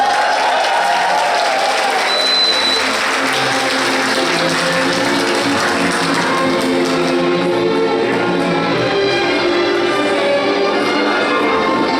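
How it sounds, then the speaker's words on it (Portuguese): A church congregation claps for a couple celebrating sixteen years of marriage, a sapphire anniversary, as they renew their wedding vows. Dense, steady applause fills the room for the whole stretch without pause. "Vamos receber eles que completaram 16 anos de casados, bodas de safira, com palmas"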